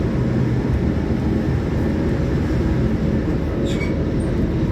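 The Argo Bromo Anggrek passenger train arrives near Jatinegara station in Jakarta, a loud, continuous rumble of wheels and carriages rolling steadily close by, with faint high squeals briefly rising over the roar.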